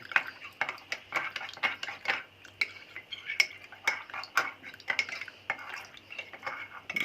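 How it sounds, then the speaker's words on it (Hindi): A spoon stirs briskly in a bowl of custard mixture, clinking and scraping against the sides in a quick, steady rhythm, close by with no talking. "पहले इसको मिक्स करेंगे अच्छे तरीके से।"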